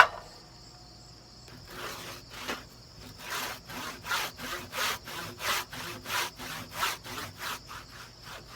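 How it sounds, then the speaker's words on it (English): A handsaw cuts timber with light pressure for an edge-halved and bridled scarf joint in timber framing, the steady back-and-forth strokes starting after a quiet moment and settling into an even, close rhythm. "Now when I'm cutting with the handsaw, I'm really not putting much pressure on here."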